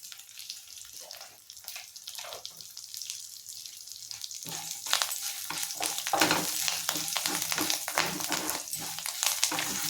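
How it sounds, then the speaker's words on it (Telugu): Lentils with asafoetida fry in a pan for tomato methi chutney: a quiet crackle swells into a louder, busy sizzle about halfway through, with spoon stirring throughout and no speech. "పప్పులు కూడా బాగా వేగిపోయినాయి కదండి"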